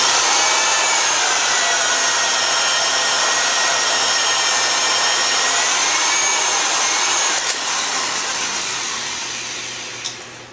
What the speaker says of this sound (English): pull the trigger once, and that's going to go ahead and embed my auger bit into the wood